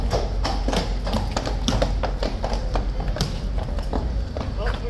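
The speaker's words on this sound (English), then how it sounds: "Here we go. New horses." Many troopers' horses' hooves clip-clopping on hard ground in an uneven, continuous patter, with a murmur of tourist voices in the background.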